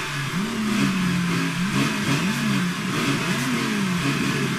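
A race car engine in the typing game NitroType revs and drones steadily, its pitch rising and falling in repeated swells over a constant loud background of game noise, with no voices.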